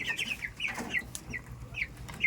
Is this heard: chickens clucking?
yes